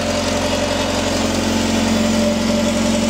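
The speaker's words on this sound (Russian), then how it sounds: "Вот я понимаю, насос работает." A fuel pump runs in a Mercedes W210 with a steady, continuous hum and drone, loud and close, with an engine-like tonal whine holding evenly throughout.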